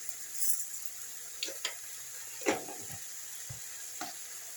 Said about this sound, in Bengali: এবারে মশলাটা কষাবো। একটু চিনি দিয়ে দিচ্ছি সামান্য,